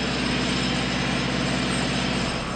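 An engine runs close by and loud, a continuous low rumble with regular, rapid firing pulses and no talk over it.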